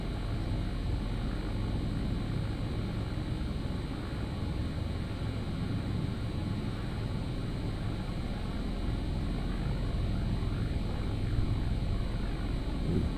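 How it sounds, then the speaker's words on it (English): Aircraft engines in the FlightGear flight simulator game, a steady droning hum that holds evenly throughout without talk. "I hear a stereo effect with the engines."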